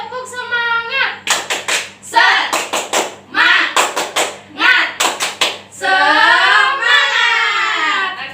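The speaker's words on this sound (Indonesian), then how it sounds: "kita tepuk semangat ya" A primary school class does the rhythmic Indonesian spirit clap (tepuk semangat) in a classroom, with bursts of patterned clapping alternating with children chanting together and a teacher's voice.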